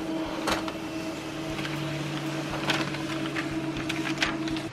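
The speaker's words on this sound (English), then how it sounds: "I'm gonna do a test print." A newly installed printer runs a test print, giving a steady mechanical hum with repeated clicks and brief whirring bursts of paper feed, fairly close and without speech.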